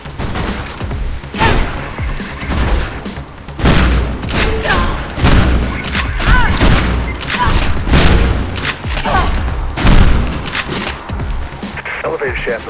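Repeated loud booming gunfire bursts from the video game Mirror's Edge, with shotgun-like blasts and thuds recurring steadily throughout over game noise.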